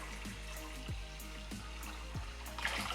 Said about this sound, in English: I am just going to pour the water